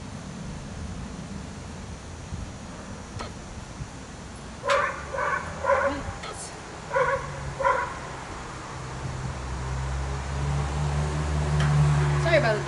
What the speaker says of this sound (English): Sorry about the dog, y'all. That's my neighbor's